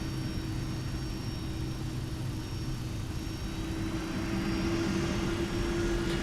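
A FlightFactor 757 jet taking off in X-Plane 12, with a steady engine roar and whine that holds constant, then brightens slightly with added tonal whistling toward the end.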